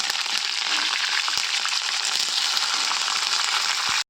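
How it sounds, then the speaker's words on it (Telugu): Garlic and curry leaves sizzle in hot oil for a tomato dal tempering, a loud, steady, close crackling hiss with scattered sharp pops throughout, ending abruptly. "ఎల్లిపాయలు కొద్దిగా ఫ్రై అయిన తర్వాత కరివేపాకు వేసుకోవాలి."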